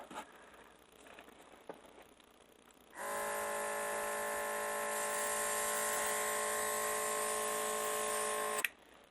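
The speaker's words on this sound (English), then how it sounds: "I bought this a few months ago, self-contained airbrush" A self-contained airbrush starts after a quiet few seconds and sprays with a steady buzzing hum that holds for several seconds before cutting off abruptly.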